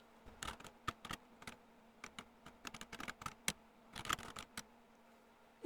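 Typing on the small keyboard of a PicoCalc handheld computer, light quick clicks in irregular bursts, close and quiet, with no talk.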